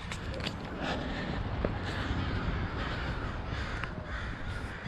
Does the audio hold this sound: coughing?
no